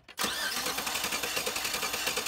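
A 2009 Chevy 5.3 L V8 cranks and catches almost at once, then runs at a loud, steady idle close by.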